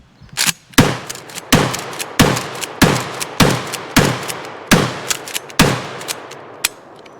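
A Mossberg shotgun fired repeatedly outdoors: about nine loud, sharp blasts at a steady pace roughly every seven-tenths of a second, each with a short echoing tail, and no talking.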